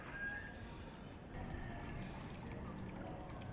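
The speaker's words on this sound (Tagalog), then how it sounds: "Bali nagpapalit po ako ng tubig mga kaubayan" Water trickling and splashing as it is poured into a drinker for ducks and geese, a quiet steady flow that grows slightly fuller partway through, heard from close by.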